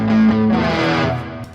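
Electric guitar played through a NUX Super Mini Chorus pedal pushed into overload, giving a thick, distorted, wavering chord that rings loud and close for about a second and a half before fading, with no talking.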